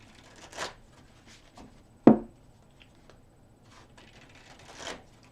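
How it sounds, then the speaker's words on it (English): A deck of tarot cards is shuffled by hand in a few quick riffling bursts separated by pauses, with one sharp louder snap in the middle, close and otherwise quiet. "I have shuffled these cards really good."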